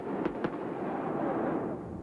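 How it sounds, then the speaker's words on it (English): Fireworks burst over the Melbourne Cricket Ground at a 1996 AFL centenary celebration, two sharp bangs early on, then a dense, steady roar of crowd and crackling ambience. "fireworks lit up the Melbourne sky"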